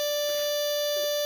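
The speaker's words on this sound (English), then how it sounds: "You can tell there's a sine wave there" A pure sine-wave synth tone from a Yamaha Montage M using FM-X holds steady and bright for the whole short stretch, with faint background movement around it.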